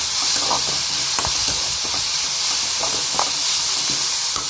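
Vegetables sauté in a hot pan with a loud, constant hiss and sizzle. Light stirring knocks and scrapes come through every so often.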